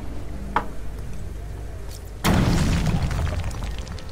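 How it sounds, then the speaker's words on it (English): Explosive gel blows through a weak floor in the video game Batman Arkham Origins: one sudden loud blast cuts through quieter ambience and decays into a crumbling rumble of debris. "I can use my explosive gel to break through."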